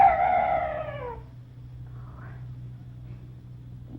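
An eerie night bird cry wails and slides downward, loud and close, then fades into a low droning hum with a faint distant call; a voice briefly exclaims.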